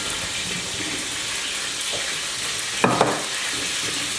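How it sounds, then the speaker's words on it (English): Boiled potatoes for mashing are drained in a home kitchen, a steady rush of hot water under a broad hiss, with a brief louder splash and clatter near the end. "we're going to drain the potatoes."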